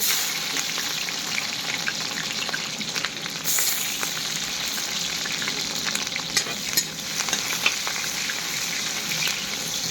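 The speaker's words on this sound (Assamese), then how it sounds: "পিঁয়াজ জলকীয়া আগতে ভাজি কৰি লওঁ" Onion and chili sizzling in hot oil in a wok, a dense steady crackle and hiss running through the whole stretch with occasional louder pops and stirring scrapes, close and continuous with no talking.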